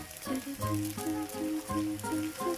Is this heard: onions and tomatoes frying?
yes